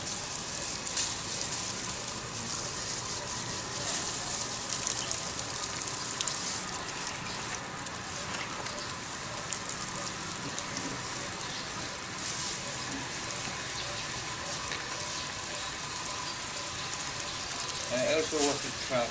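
Water washes a pemphis bonsai from underneath, making a steady gushing, spraying hiss that continues throughout at moderate volume, with faint handling noises.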